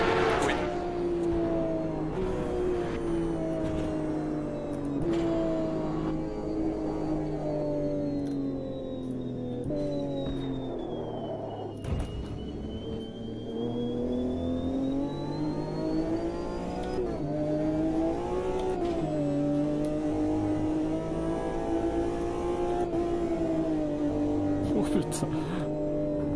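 A Porsche GTE's engine is held at the rev limiter on the Nordschleife in Automobilista 2, with a clutch fault. The sustained, buzzing engine note wavers slightly at the limiter, and someone talks over it.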